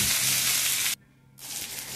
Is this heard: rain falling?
no